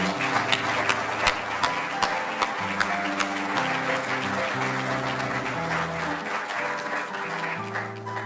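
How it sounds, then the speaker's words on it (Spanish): Applause for the honorees at a 2026 royal decoration ceremony: a crowd claps steadily and fairly loudly while ceremonial music plays in the background, with a few sharper individual claps standing out. "Un fuerte aplauso para todos los decorados."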